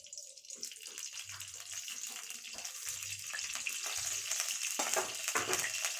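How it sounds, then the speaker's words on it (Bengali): White cooking oil hitting a hot wok, heard as a broad, steady hiss that builds gradually and holds close and fairly loud, with soft low thumps now and then beneath it and no talking. "আমি সাদা তেল কড়াইয়ে দিয়ে দিচ্ছি।"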